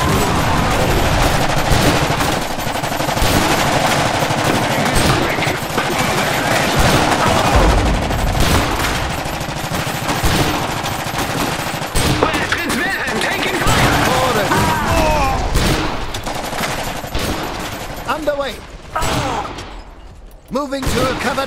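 Machine gun fire rattles in a dense, loud barrage of rapid shots mixed with explosions during a battle in the Iron Harvest video game, with soldiers' voices shouting over the din.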